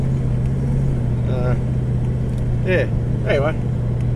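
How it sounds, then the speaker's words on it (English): A car drives along the sand at Stockton Beach, its steady engine and road rumble droning close and continuous throughout, while someone talks briefly over it. "driving on Stockton for the first time in a long time"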